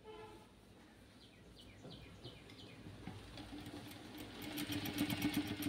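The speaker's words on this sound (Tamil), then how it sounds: "இந்த கேதர் வந்து இது மேலே அப்படியே ஸ்டிச் பண்ணுறோம்" Sewing machine stitching over gathered fabric on a child's frock, a faint steady mechanical purr that grows a little louder and busier toward the end, with no talking.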